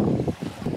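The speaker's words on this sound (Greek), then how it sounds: "φυσάει και λίγο" Wind blowing across a beach in Halkidiki, a close, gusty rumble of microphone buffeting that rises and falls in short surges with no voices.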